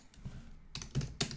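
Several quick keystrokes on a computer keyboard, close and crisp, arriving in short uneven bursts with brief pauses between them.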